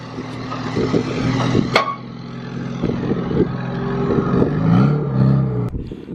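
A supercharged K24-swapped Honda Insight tuned on E85 revs and accelerates, its engine droning loudly with a rising tone, one sharp crack partway through.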